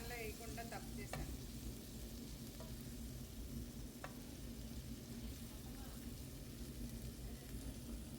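Spicy fish frying in oil on a flat pan, a steady soft sizzle running throughout with a few faint clinks, quiet and close, without talking.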